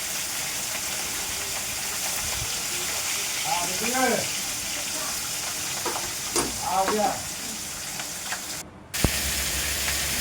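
Continuous sizzling and crackling of fish pieces frying in hot oil, with brief murmured speech and a clink of utensils partway through.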